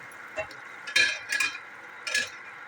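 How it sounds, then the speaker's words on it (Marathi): A Bombay Karachi halwa mixture stirred in a pan over a low gas flame: a few soft, close scrapes with a faint sizzle between them. "आता मी ढवळून घ्यायचं"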